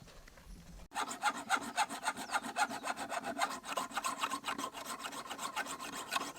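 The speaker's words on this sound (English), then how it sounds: "To sharpen the machete is one of the things that my grandpa, my father, even my mom, they used to do it in our farm" A machete blade being sharpened on a farm, a close, steady run of quick rhythmic metal scraping strokes that starts after a short quiet moment and continues evenly throughout, with no talking.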